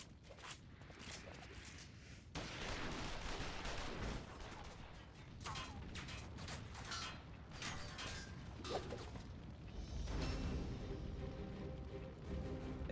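Bursts of gunfire in a Final Fantasy XIV battle scene, loud and layered with mechanical clatter and rattling, dense and continuous across the stretch with sharper shots scattered throughout.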